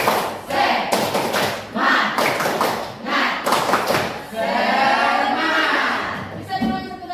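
A school class performs a rhythmic spirit clap, bursts of hand claps and thumps in a group pattern alternating with loud chanted voices in a classroom.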